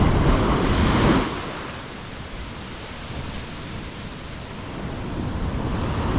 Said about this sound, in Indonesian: Gila ombak di sana teman-teman.